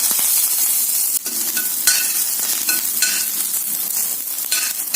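Steady, loud sizzling of curry leaves added with mustard seeds to hot oil, a dense crackling hiss with occasional sharper pops, continuous throughout with no voices.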